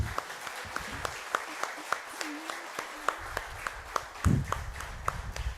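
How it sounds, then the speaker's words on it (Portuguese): A church congregation applauds at the close of a service, a steady wash of clapping with sharp individual claps standing out, fairly distant and moderate in level, with a brief voice near the end. "Você pode aplaudir ao nosso Senhor,"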